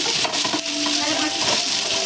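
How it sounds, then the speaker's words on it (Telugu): Chopped ivy gourd frying in hot oil while being stirred, a loud close sizzle with rhythmic scraping and light clinks of the spatula against the pan. "ఇలా దొండకాయ వేసుకొని వేయించుకోవాలి, ఇలా కలుపుకోవాలి"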